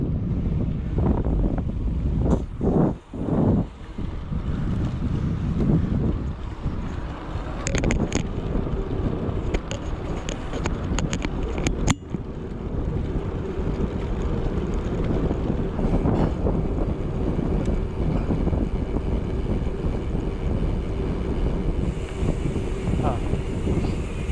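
Wind rushes over the microphone during a bike ride through a residential area in Sweden, a constant loud low buffeting with a few sharp clicks and knocks, and brief speech mixed in.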